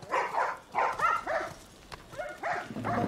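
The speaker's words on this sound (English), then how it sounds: "Shut them dogs up." Dogs bark in The Last of Us video game, a series of close, loud barks and yips in short bursts with brief pauses between them.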